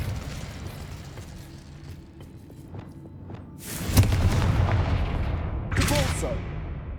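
A fiery Confringo spell blasts in the Hogwarts Legacy video game: a sudden loud explosive burst about halfway through, followed by a second crackling boom a couple of seconds later, over a low rumbling game soundtrack.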